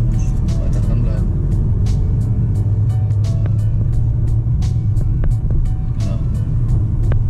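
A learner's car engine pulls uphill in second gear, giving a steady low rumble throughout with an instructor talking over it.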